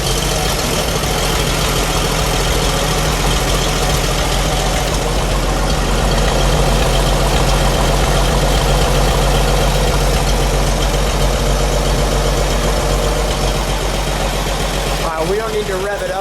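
A 1946 Chevrolet 1½ ton tow truck engine idles without revving, a loud, steady mechanical rumble close by that holds constant for the whole stretch, with a brief disturbance near the end.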